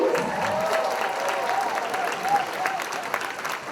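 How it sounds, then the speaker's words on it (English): An audience at a cotillion and beautillion scholarship awards ceremony applauds, sustained dense clapping filling the room at an even level throughout, with some crowd noise mixed in. "let's have a round of applause for all of our devs and bows."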